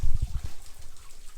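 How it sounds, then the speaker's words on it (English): Small waterfall seeping out of a back corner along a wooded trail, a soft low trickle of water with a few heavier gurgling pulses at first, then a faint steady trickle. "Little waterfall."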